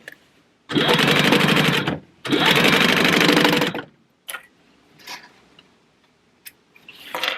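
Sewing machine stitching the sides of a zipper pouch for a wallet, two long steady runs of rapid needle chatter separated by a short pause, followed by quieter handling clicks and shuffles.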